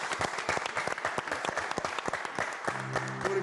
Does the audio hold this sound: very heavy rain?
no